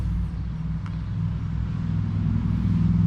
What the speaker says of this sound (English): watching people drive by